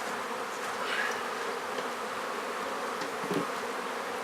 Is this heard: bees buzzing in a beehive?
yes